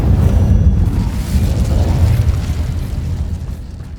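Incendio fire spell cast in a magic-themed video game, a loud low whooshing roar of flame that bursts at once and then slowly fades over several seconds.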